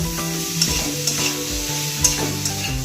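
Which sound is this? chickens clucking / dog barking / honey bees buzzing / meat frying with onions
meat frying with onions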